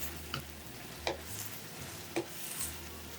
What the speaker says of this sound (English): Stir fry everything together for a few minutes until the shrimp is almost cooked through.